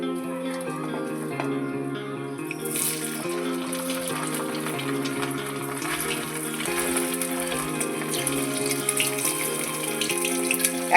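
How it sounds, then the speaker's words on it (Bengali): Crispy chilli baby corn pieces sizzling in hot oil during a second frying, a steady, hissing, bubbling crackle that grows louder after a few seconds, with a faint melody underneath. "এগুলো আমি আর একবার ভেজে নেব।"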